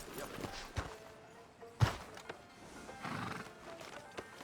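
A horse whinnies and its hooves clop in Red Dead Redemption 2, outside a sheriff's office in a frontier town, with a sharp loud burst near the middle, lighter hoof sounds around it, and a voice briefly heard.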